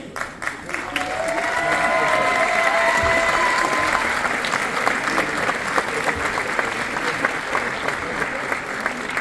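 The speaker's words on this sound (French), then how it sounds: "Je voudrais qu'on applaudisse Kiki." A crowd at a business event in Toulouse applauds steadily, with dense sustained clapping that builds in the first seconds and holds at an even level, a few louder individual claps standing out and faint voices underneath.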